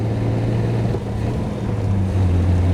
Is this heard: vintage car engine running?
yes